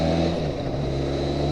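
A Benelli TRK502 motorcycle engine drones loudly up close, a deep steady throb with a low humming tone throughout and no talk.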